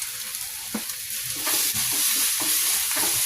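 Ground masala with a quarter teaspoon of turmeric and a pinch of salt sizzling and frying in a pan, with steady broadband hiss and occasional stirring scrapes, close and fairly loud, no talking.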